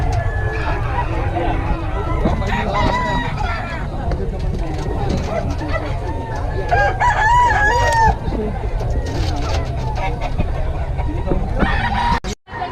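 Roosters crow repeatedly at a crowded chicken market in Bocaue, several long cock-a-doodle-doos rising over a steady hubbub of clucking fowl and people talking and haggling nearby throughout.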